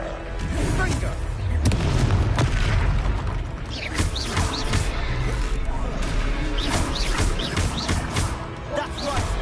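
Fiery explosive spell blasts in the wizarding game Hogwarts Legacy, several booming bursts and crashes scattered over a busy combat soundscape, with voices talking throughout.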